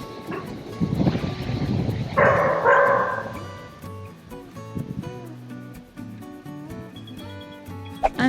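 Puppies bark close by in a bright flurry of yips and barks that eases into softer, sporadic sounds, ending in a sharp click.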